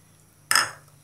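A spoon scrapes and clinks once through spiced rabbit soup with carrots in a pot, a single short stirring swish that rises sharply and then fades, close and alone.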